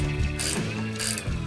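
Rapid ratchet clicks in two short bursts as a socket head bolt is tightened on a CO2 air tank, close and crisp with a brief pause between strokes.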